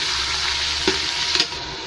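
Meat for haleem sizzles in oil left from frying onions, a close, steady hissing fry with a couple of brief louder spatters or stirring knocks and no talking.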